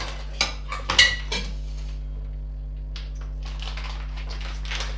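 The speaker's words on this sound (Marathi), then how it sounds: "आपण आता याच्यामध्ये तीळ आणि शेंगदाणे जे बारीक केलेले होते आपण ते टाकणार आहोत" Crushed sesame seeds and peanuts go into a pan of jaggery syrup for tilgul ladoo, with a few sharp metal clinks of a spoon against the pan, then quiet scraping and a steady low hum.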